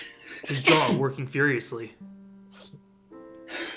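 A single sneeze bursts out briefly amid narration in a visual novel scene, preceded by spoken voice and followed by quiet low tones.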